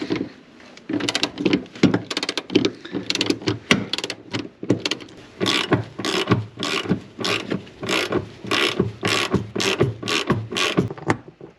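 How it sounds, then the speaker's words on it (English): A hand ratchet turns an 18 mm metric socket while removing the center console of a 2009 Jeep JK, with rapid, loud, close clicking in repeated bursts and short pauses between strokes. "Using a number 18 metric socket."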